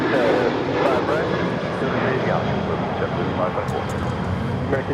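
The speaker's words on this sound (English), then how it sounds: "Another Queen about to depart Asiana Cargo Flight 286 heading to SFO at a 747-400." Jet engine roar from an Asiana Cargo Boeing 747-400 at LAX, a continuous loud broadband rumble filling the whole stretch, with faint radio voices underneath.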